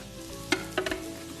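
A wooden spoon knocks and scrapes against a pot of asparagus cooking on the stove, a few soft clicks over a faint, low background.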